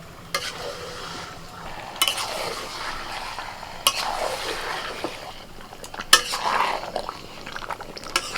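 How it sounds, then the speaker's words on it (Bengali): Chicken tipped into a pan of ground spice paste, sautéed for chicken kosha, with a steady low sizzle broken by a few sharp spatula scrapes and clinks against the pan at intervals. "এবার চিকেন দিয়ে দিচ্ছি"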